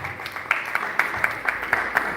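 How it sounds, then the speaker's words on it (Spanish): Audience applause closing a gala concert, a steady wash of clapping with sharper, regular claps standing out every half second or so, moderately loud and continuous with no voices over it. "fuertes los aplausos por favor"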